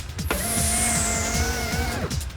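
A driverless car moving on its own, heard as a steady hum with a rising whine and a rhythmic low chugging for about two seconds, fairly loud and with no voices.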